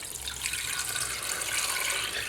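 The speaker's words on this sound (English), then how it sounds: "I'm going to cover everything with cold water" Cold water pours steadily from a tap over beef stock bones in a pot, a continuous close hissing gush with no pauses and no talking.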